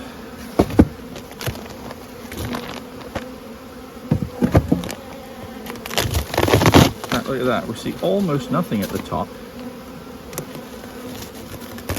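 Honey bees drone in a continuous buzzing swarm inside a heavy hive during a spring feeding round, swelling louder midway, while a person talks close by over the insects.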